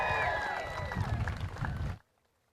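An outdoor crowd at a street-naming ceremony applauds and cheers for a cheer squad and drum line, with a loud burst of clapping and shouts under a voice, then a sudden cut to near silence.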